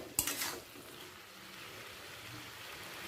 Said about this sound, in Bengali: আলু ফুলকপিটাকে একটু ওপর নিচ করে দেব যাতে সব দিকটা সমানভাবে সেদ্ধ হয়ে যায়